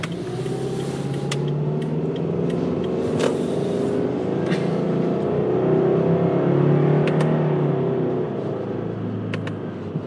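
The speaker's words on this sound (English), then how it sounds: "Let's do another manual mode acceleration." A 2010 Subaru Outback 2.5i with CVT accelerates in manual mode, the engine droning loudly and steadily from inside the cabin and rising gently in pitch, with no talk.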